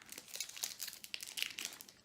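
A trading card booster pack wrapper is torn open, giving close, quiet crinkling and crackling of foil plastic in a quick flurry of small rustles.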